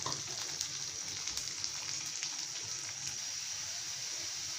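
Garlic paste, turmeric and spices sizzle steadily in hot oil with softened onions for a spicy fish curry, a close, continuous crackling fry with no talking.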